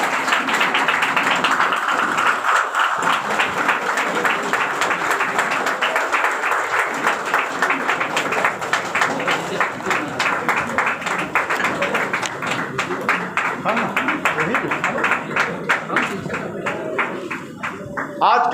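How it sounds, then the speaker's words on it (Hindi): A standing audience at a certificate release ceremony for a nursing school and rural medical practitioners applauds for a long stretch, a steady dense clapping that keeps going and begins to break up near the end. "सब लोग इस विमोचन में एक बार खड़े होकर ताली बजाकर स्वागत करें।"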